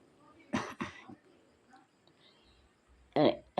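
A person with a sore, irritated throat coughs a couple of times in quick succession, close and fairly loud, then coughs again after a short quiet gap in a home kitchen.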